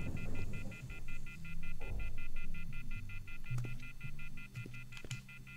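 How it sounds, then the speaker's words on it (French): A telephone rings in The Wolf Among Us video game, a steady repeating electronic tone heard over low background hum and game ambience, with occasional clicks, fairly close and clear. "C'est le téléphone? On va répondre au téléphone."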